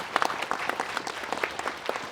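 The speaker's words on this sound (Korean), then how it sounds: "여러분 박수로 환영해 주시면 고맙겠습니다" An audience in a memorial hall at a ceremony for President Syngman Rhee breaks into a brief burst of applause to welcome a guest, with dense, close clapping from many hands.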